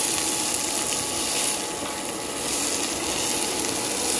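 Cashews sautéed briefly over medium heat in a pan for Hyderabadi baingan, giving a steady, close hiss of sizzling that runs unbroken for a few seconds with no voices.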